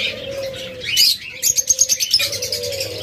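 Pet birds kept for sale chirp and tweet close by, a quick run of sharp repeated calls between softer cooing and faint flutters, with a steady low hum behind them.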